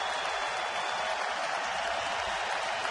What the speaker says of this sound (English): Crowd always gets into it, especially with 2 strikes, 2 outs on the batter.